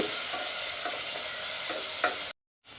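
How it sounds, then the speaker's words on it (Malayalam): Ginger garlic paste, two tablespoons, sizzles and fries in a pan for mutton pulao, a steady close crackle with a few stirring scrapes, then a brief cut to silence. "ഇതൊന്ന് നന്നായിട്ടൊന്ന് മൂപ്പിച്ചെടുക്കണം നമ്മൾ."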